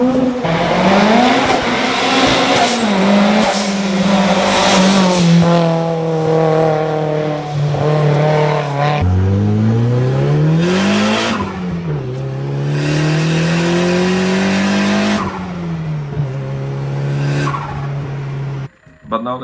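Turbocharged CA18DET engine in a Nissan S13 200SX revving hard through repeated rising sweeps and gear changes, loud and close, with tire squeal mixed in and a voice briefly over it.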